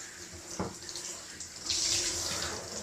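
Cool water runs steadily from a tap into a bathtub while hair is rinsed, a close continuous splashing hiss that swells louder partway through.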